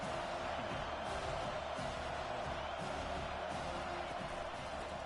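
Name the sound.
football stadium crowd cheering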